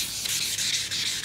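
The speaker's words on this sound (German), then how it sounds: "Wie lange kannst du da jetzt schleifen" Hand wet sanding of fresh BMW paint with 2000-grit sandpaper, heard as close, rhythmic back-and-forth hissing strokes, several in quick succession with no talking.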